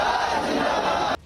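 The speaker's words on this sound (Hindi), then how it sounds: "और देशभक्ति के नारे गूंजते रहे।" A large crowd at a martyr's funeral raises loud, continuous patriotic slogans, a dense roar of many voices that cuts off abruptly.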